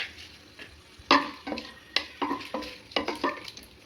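Whole cardamom, star anise, cloves and cinnamon sizzle in a pot of oil for chicken biryani while a spoon stirs them, making a string of sharp scraping clinks over a soft, steady fry.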